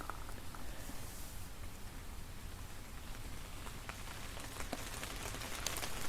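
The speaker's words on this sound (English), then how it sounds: "here comes the rain." Steady rain patters down on a surface outdoors along an old closed road at night, forming a continuous broadband hiss that swells slightly toward the end, with no voices.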